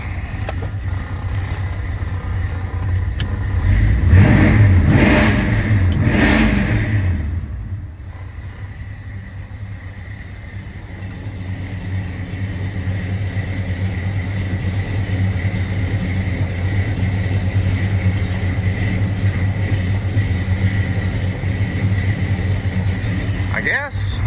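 An old truck fitted with a winch and dual battery kit idles outdoors in cold weather, with a steady low rumble throughout; a louder surge of engine noise comes early, then it settles to an even idle.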